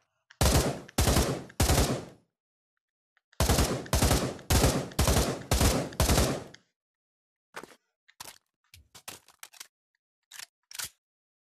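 An M4 rifle in the Pavlov VR shooter fires three sharp bursts, then a longer string of rapid shots, followed by a series of crisp clicks and clacks from the reload, loud and with no talking.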